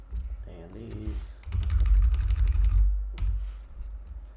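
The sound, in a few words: typing on a computer keyboard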